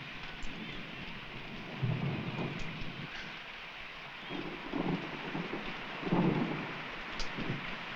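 A thunderstorm with heavy rain on a rural homestead in a Western setting: a steady wash of downpour with several deep, rolling thunder rumbles swelling and fading at irregular intervals, close and loud, with no talk.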